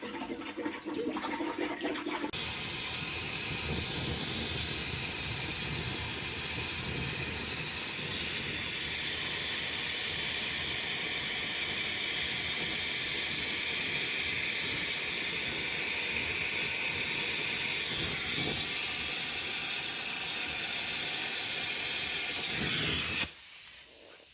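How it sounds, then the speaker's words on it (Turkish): Refrigerant gas hisses steadily out of a NIBE 1345 ground-source heat pump through a connected manifold, a loud continuous rush lasting over twenty seconds before cutting off abruptly. "Şu an sistemin içerisindeki kalan mevcut gazı dışarıya çıkartıp sonrasında kaynak işlemine geçeceğiz."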